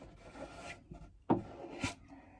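A wet towel rubbing product in by hand on a home surface before painting: a few soft, brief scrubbing strokes, close and quiet.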